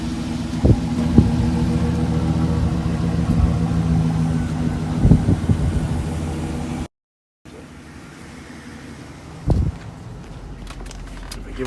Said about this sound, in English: I turned the truck on to show you how it sounded stock without the cherry bomb Glasspack.